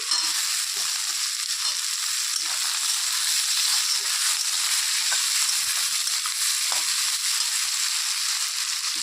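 Cut potato pieces fry in hot oil in a pan beside a fish-head cabbage dish, giving a steady, dense sizzle throughout with faint crackles and no talking.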